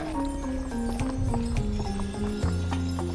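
A horse clip-clops with steady, close hoof beats on the Hungarian puszta while a wagon rolls along. A whinny-like tone and a low droning hum run through the brief stretch.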